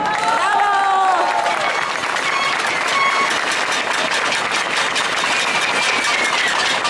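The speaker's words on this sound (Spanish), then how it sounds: "Un fuerte aplauso para ella." Sustained applause from an audience at a public-education rally, dense clapping with some cheering, loud and steady, with a voice briefly audible at the start.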